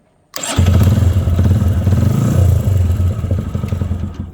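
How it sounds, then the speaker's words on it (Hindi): A motorcycle with a lithium battery fitted starts on its electric self-start: a sudden loud crank catches at once into a rough, rumbling idle that keeps running close by, with no talking. "बाइक ज़बरदस्त तरीके से स्टार्ट हो चुकी है"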